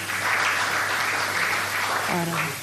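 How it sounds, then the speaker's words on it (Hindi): An audience in a community hall applauds with dense, continuous clapping that holds steady throughout, with a voice briefly rising over it near the end. "फिर से जोरदार तालियां सबके लिए"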